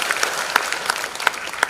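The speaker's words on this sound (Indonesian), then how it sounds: "Berikan tepuk tangan." A church congregation at a revival service in Bali claps together, a brief burst of applause with rhythmic sharp hand claps standing out above the crowd's clapping.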